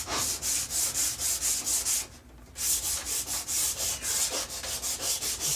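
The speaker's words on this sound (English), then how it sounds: "We're going to drop it down here and give this a quick sand" Wood being sanded by hand with 80 grit sandpaper on an angled contour sanding grip: quick, rhythmic back-and-forth rasping strokes, close and loud, with a brief pause partway through.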